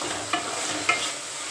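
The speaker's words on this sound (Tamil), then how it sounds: "கோவக்காவை கட் பண்ணி போட்டு நல்லா சிம்மிலே வச்சு நல்லா வதங்கிட்டே இருக்கட்டும்" Chopped ivy gourd sautés on a low flame, a soft steady sizzle with two brief spoon clicks against the pan, fairly quiet and close.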